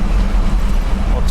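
A 1960 Pontiac Laurentian with an automatic transmission driving down the road, a steady loud rumble of engine and road noise heard from inside the car with no clear gear change.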